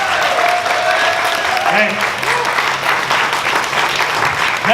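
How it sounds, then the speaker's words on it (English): An audience claps loudly and continuously after a talk by a former Marine and wrestler, a dense wash of applause with a brief shout near the start. "Please give him a big round of applause."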